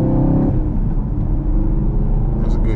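A Camaro 2SS 1LE with a six-speed manual gearbox, loud and close from inside the cabin: a steady engine drone, a brief dip in revs around a gear change, then the drone resumes, with a voice speaking over it.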